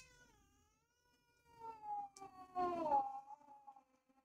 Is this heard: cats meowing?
yes